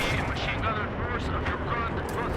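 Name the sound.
missiles launching at aircraft in the video game Battlefield 4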